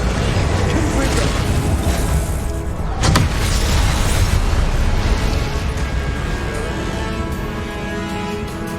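Confringo fire spells detonate in Hogwarts Legacy as dense, continuous booming blasts over game noise, with one sharp burst standing out and a voice talking throughout.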